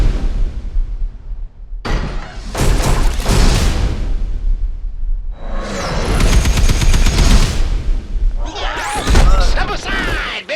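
A Borderlands movie trailer action sequence with bursts of heavy explosions, gunfire and crashing impacts, three loud dense blasts separated by brief quiet gaps, set against a trailer soundtrack.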